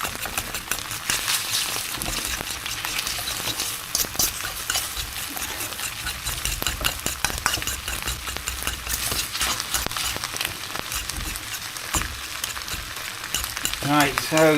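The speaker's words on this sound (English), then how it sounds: "Just keep this egg whisking up." An egg sizzles steadily in a hot pan for special fried rice with beef and mushroom. The frying hiss is close and continuous, with scraping stirs and light utensil taps throughout.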